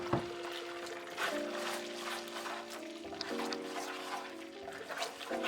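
Water poured into a simmering sauce sweetened with sugar for Peking roast duck, a soft continuous trickle and bubbling at close range over low heat.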